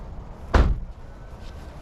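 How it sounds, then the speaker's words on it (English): A car door closed from outside a vehicle, a single solid thump that decays quickly against quiet background. "Close this door a second."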